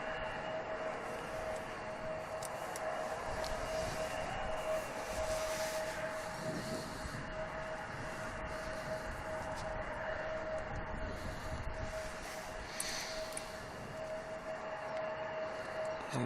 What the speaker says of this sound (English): And the Virgin 350 that just departed, heading west.